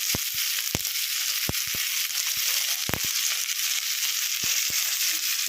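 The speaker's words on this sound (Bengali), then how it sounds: "ভালো করে নাড়িয়ে নেব।" Spices sizzle and fry in a pan for a hilsa dish, a steady loud hiss with sharp scattered crackles and pops as the mixture is stirred.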